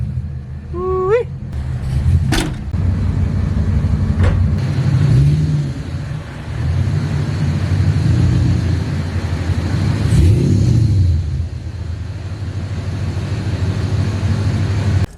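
An LS-swapped Chevrolet Colorado truck engine idles steadily and loudly up close with a low, rumbling drone, with brief faint squeaks and clicks over it.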